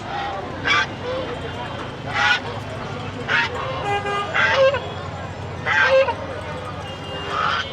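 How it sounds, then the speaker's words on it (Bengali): Domestic geese at a rural poultry market in Tongi honk in loud, repeated bursts about every second or so, over crowd murmur and voices. "এদিকে দেখতে পাচ্ছি যে সবই রাজহাঁস"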